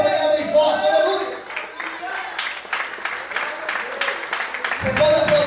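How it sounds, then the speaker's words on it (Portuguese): A church congregation breaks into applause, a dense wash of clapping that swells and fades in the middle of the clip, with a voice speaking over it at the start and end. "glorifique e aplauda o Senhor nessa manhã bem forte"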